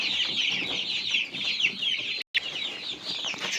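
Several chickens cluck and chatter nearby in a busy, continuous flock, with a brief dropout near the end.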